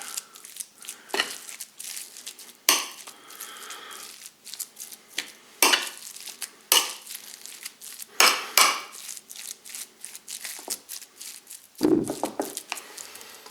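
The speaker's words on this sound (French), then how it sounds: "Étape suivante, on mélange." Pâté de campagne ingredients being mixed by hand in a bowl, with irregular clinks, scrapes and knocks of utensil against dish, moderately close, with no talking.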